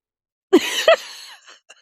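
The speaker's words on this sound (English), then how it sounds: "I keep muting myself too because I keep coughing" A woman coughs twice in quick succession, close to the microphone. A faint rough tail and a tiny catch of breath follow in an otherwise quiet room.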